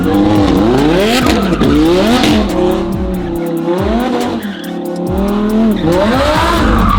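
A 1500 HP twin-turbo Ferrari F12 drift car revs hard and drives close by, with its engine note rising and falling through repeated sweeps and a loud, continuous roar, plus tire squeal.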